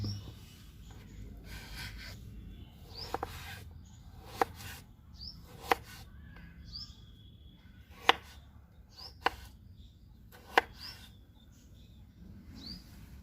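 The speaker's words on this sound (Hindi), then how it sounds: "अब आलूओं को काट लेते हैं।" A knife chops potatoes on a cutting board for a vegetable khichdi, about eight sharp, separate taps spread unevenly over a quiet kitchen background, with no talking.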